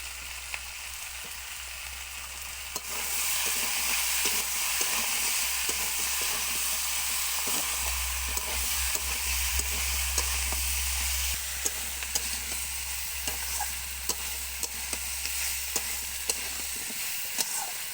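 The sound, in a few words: stirring Malabar spinach and pumpkin curry in a pan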